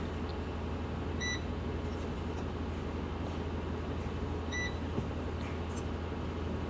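A Cosori air fryer gives two short electronic beeps as its shrimp setting is selected, a few seconds apart, faint over a steady low fan-like hum.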